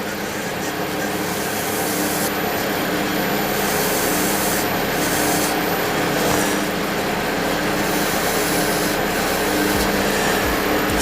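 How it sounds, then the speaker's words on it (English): Wet sanding a purple and wildfire shaving brush handle spinning on a lathe gives a steady, continuous rubbing hiss over a low motor hum, fairly close and even throughout with no talking. "Then we can finish the wet sanding, I guess."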